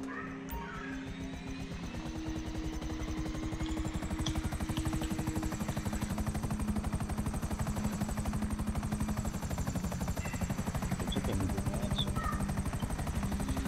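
Helicopter in Grand Theft Auto V, its steady rotor thump and engine whine running loud and continuous, with gunfire-like bursts mixed into the game noise.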